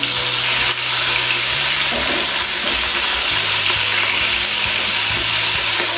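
A hilsa fish head fries in hot oil with onions, giving a loud, continuous close-up sizzle and crackle with occasional stirring clatter throughout.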